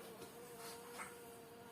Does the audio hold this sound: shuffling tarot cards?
no